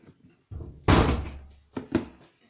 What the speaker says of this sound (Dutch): Ja, wacht, ik doe de deur even dicht.